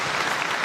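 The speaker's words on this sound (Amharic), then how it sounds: "አጨብጭቡ" An audience at a gospel singer's album launch claps in a short, dense burst of applause.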